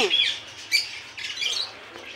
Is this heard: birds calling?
yes